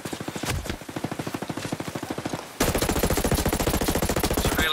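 Automatic rifle fire in a Ghost Recon Breakpoint PvP match: rapid sustained bursts of loud gunshots, close, growing denser and louder partway through, with no talk.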